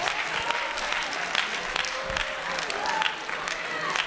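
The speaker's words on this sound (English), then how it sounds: "Give her a round of applause." A school audience gives a round of applause after a student's answer, steady dense clapping throughout, with a few louder claps and a murmur of voices mixed in.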